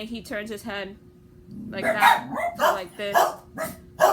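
Pet dogs barking repeatedly at close range, several sharp overlapping barks and yips that come in bursts and overlap a man's speech.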